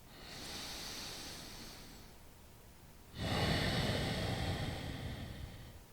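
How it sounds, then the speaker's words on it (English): Slow nasal breathing during a calm yoga exercise for anxiety relief: one soft, airy breath fades out, a pause follows, then a stronger, closer breath through the nose sustains for several seconds. "breathing in and out of your nose"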